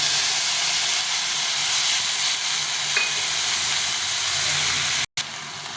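Ginger and other ingredients for sago khichuri fry in a pan, a steady hissing sizzle that runs unbroken, with one brief dropout near the end and no talking.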